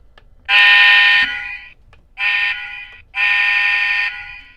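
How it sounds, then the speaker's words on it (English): A loud computerized whistle from a Lionel 0-6-0 model train sounds three times, one long blast, a short one, then another long one, harsh and buzzy with silence between. "it's a very, very loud, as you can hear, computerized whistle"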